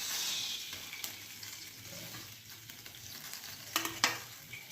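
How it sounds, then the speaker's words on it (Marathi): Oil heating in a kadhai for a pea and drumstick vegetable dish gives a soft, steady sizzle with faint crackles, close by and continuous, with a few sharper pops near the end and no talking. "कढईमध्ये तेल टाकू."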